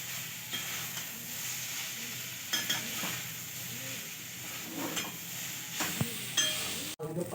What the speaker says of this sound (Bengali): এরপর পাস্তাগুলো দিয়ে আমি খুব ভালোভাবে ওর সাথে মিশিয়ে নিচ্ছি।